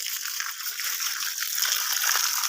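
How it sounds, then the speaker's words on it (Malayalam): Water gushes steadily from a hose or container onto the soil around a pomegranate plant, a constant close hissing rush with no pauses. "നമ്മളങ്ങ് വെള്ളം ഒഴിക്കുകയാണ്"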